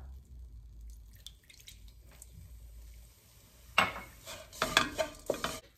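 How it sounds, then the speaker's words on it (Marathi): A spoon scrapes and stirs zunka, a gram-flour dish, in a pan after a splash of warm water is added. Quiet at first, then a run of close, uneven scraping strokes in the last two seconds. "हे बघा अगदी थोडंसं पाणी घालायचं आणि परत हलवून घ्यायचं."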